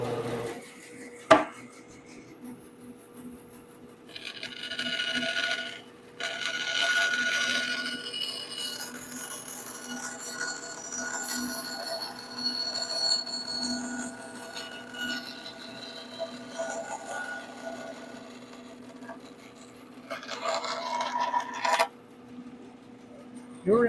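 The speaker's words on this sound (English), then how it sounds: "backing out of a cut with a bandsaw is not always a brilliant thing to do, but what's on my side is the wider blade and the shorter cut" A bandsaw with a wide blade cuts plywood in a luthier's workshop, giving a sustained rasping buzz that starts and stops over several cuts, with the machine hum underneath and a voice talking in between.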